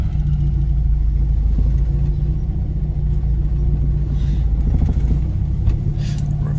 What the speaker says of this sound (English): Reverse down the drive.